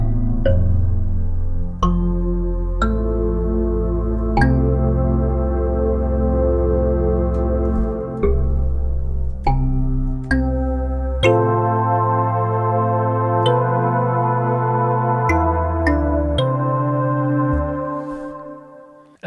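Kalimba sample layered with two instances of the Drift synthesizer, one a sub two octaves below, played as a melodic run of plucked notes with bright attacks over sustained deep bass tones, heard alone and loud.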